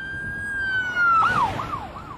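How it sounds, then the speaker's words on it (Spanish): A siren wails steadily, then sweeps up and down in a rising and falling yelp, fairly close and loud over a low traffic rumble. "En la avenida, el ruido de motores, sirenas y bocinas era ensordecedor."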